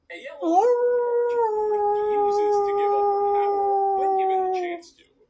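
A single long wolfdog howl, clear and close, swells quickly then holds a steady mournful pitch for about four seconds before trailing off.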